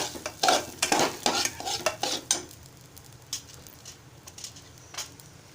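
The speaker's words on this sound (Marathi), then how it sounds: "आता मी मूग डाळ आणि तांदूळ घालत आहे मिश्रण छान एकजू करून घेऊया" A spoon stirs a moong dal and rice mixture in a cooking pot for a Malvani-style khichdi, scraping and clinking in quick bursts over the first half, then settling into faint sizzling with a few lighter scrapes.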